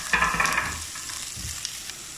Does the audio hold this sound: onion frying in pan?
yes